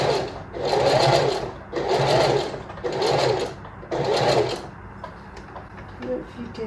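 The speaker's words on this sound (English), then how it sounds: "I'm sewing right at the edge. That's why I'm sewing it really slow." Sewing machine stitching along the edge of a scrub hat at slow speed, four close, rhythmic bursts of rapid whirring stitches separated by short pauses, with faint handling noise at the end.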